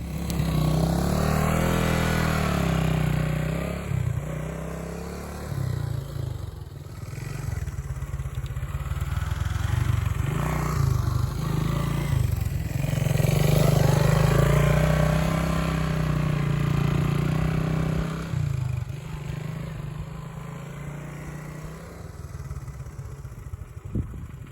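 A 1970 Honda Trail 90 motorcycle creeps up an off-road obstacle in low-range first gear, its small engine chugging steadily and close throughout, with slight revs and mechanical clatter rising midway.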